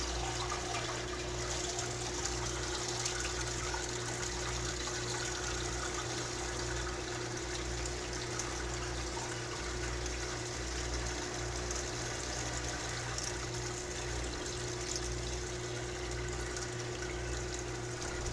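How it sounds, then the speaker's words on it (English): Wild grape juice poured from a stock pot through a strainer makes a steady, continuous trickling splash that holds evenly for about eighteen seconds over a low background hum, with no talking. "So all I do is I take my stock pot of juice and I start pouring it in"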